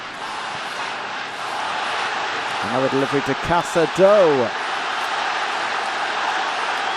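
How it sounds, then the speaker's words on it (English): Stadium crowd at a Barcelona versus AC Milan football match swells into a steady loud roar, with a commentator's voice heard over it. "Well, that's got the crowd to their feet."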